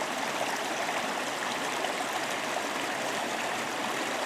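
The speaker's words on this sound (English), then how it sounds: "I gotta get across this creek." Creek water rushing in a steady, broadband flow nearby, continuous and even with no breaks or voices over it.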